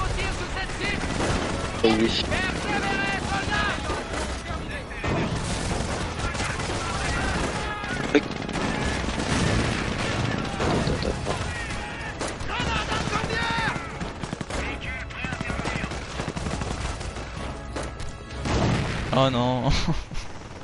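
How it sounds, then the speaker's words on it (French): Anti-tank cannon fire and gunfire in the World War II strategy game Company of Heroes, with dense, continuous battle noise of shots and booms throughout and a player talking briefly over it. "2 coups de canon anti-char, ça me détruit le truc."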